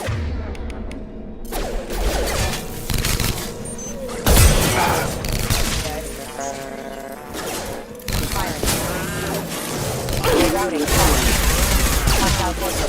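Gunfire in the video game Mass Effect Legendary Edition, bursts of rapid shots and sharp bangs with a heavy boom partway through, mixed with game sounds and voices talking over the action.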